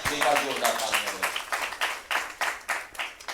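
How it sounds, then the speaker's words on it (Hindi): An audience at a Hindi kavi sammelan poetry gathering breaks into loud, sustained clapping, fading into a ragged patter of separate claps, with a voice underneath at the start. "एक बार जोरदार तालियां"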